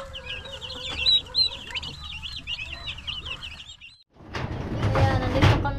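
Chickens clucking in a backyard chicken coop, several birds calling in busy overlapping bursts for several seconds, followed by rustling and clatter nearby as things are handled.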